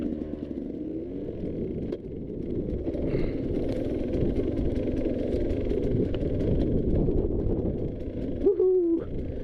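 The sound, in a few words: KTM 150 XC-W dirt bike riding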